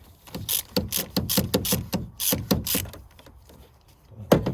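A large ratchet socket clicks in quick bursts on the oil drain plug of a VW Transporter T5.1 van, worked on a driveway: close, crisp ticking runs with short pauses and a sharp knock at the end.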